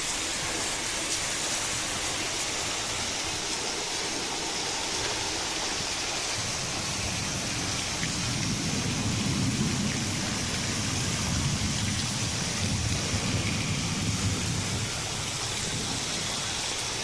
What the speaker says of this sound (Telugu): హైదరాబాద్లో కుండపోతుగా వర్షం కురిసింది.